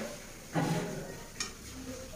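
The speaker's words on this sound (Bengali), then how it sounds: "তার জন্য আলু ভাজা বানাচ্ছি" Potatoes frying in a pan give a soft, steady sizzle up close, broken by a couple of brief scrapes and clinks from stirring.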